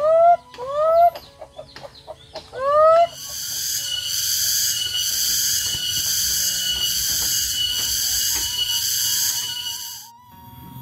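Chickens cluck and squawk in a quick series of sharp calls while being fed, followed by a long, steady, high-pitched buzzing drone with faint clucks underneath.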